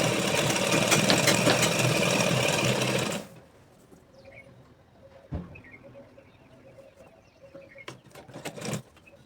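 A sewing machine stitches a fabric belt cut from an old shirt, running in a loud, steady whir for about three seconds before stopping. Faint clicks and quiet room noise follow.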